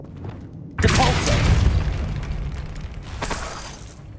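In Hogwarts Legacy, a Depulso spell goes off with a sudden loud whooshing blast that rumbles and fades over a few seconds, followed by a second, softer burst.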